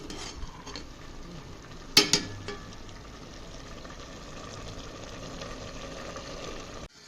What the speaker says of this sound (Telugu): సో స్టిర్ చేసి కలిపేటప్పుడు మాత్రం కార్నర్స్ నుంచి కలపండి